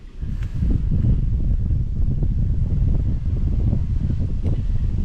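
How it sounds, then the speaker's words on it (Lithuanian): A strong wind blows across a lake during bream fishing, a loud, constant low rumble of gusts buffeting the microphone, with no voices. "Baisinis vėjas."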